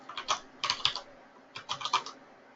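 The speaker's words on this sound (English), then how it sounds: "So I can just type things in manually." Rapid keystrokes on a computer keyboard in two short bursts separated by a brief pause, close and clear with no talking.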